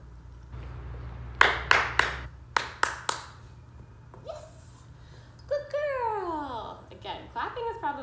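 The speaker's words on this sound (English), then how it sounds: "Clapping is probably the most exciting for them." Sharp hand claps during relaxation training for a dog, first a quick run of five or six close, loud claps, then a few more, followed by a voice speaking and cooing near the end.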